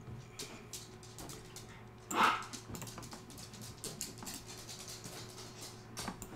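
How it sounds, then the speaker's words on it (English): Household dogs bark off to the side, with one louder, sharper bark standing out among softer scattered yaps over a steady low room hum. "you can hear my dogs barking."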